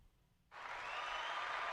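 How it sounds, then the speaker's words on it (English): A canned applause effect plays from a built-in soundboard track, cutting in abruptly after a brief quiet moment and holding as a steady, even wash of clapping. "So I think this one is an applause."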